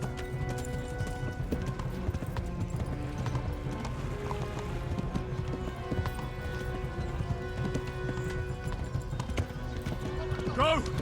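Hooves clip-clop rapidly from a galloping horse in the medieval video game Kingdom Come Deliverance, a steady running beat heard under ongoing speech with a short whinny-like sound near the end.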